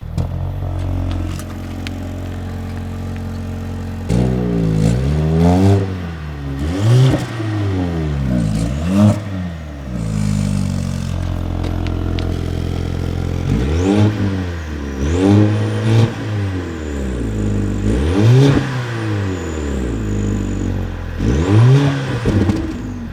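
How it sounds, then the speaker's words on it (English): A 2025 Mercedes-AMG A35's four-cylinder engine revs repeatedly, each blip rising sharply in pitch and falling back, in bursts separated by brief idle stretches, loud and close. "So besides being a 4-cylinder, it does sound pretty fruity. We'll listen to it now."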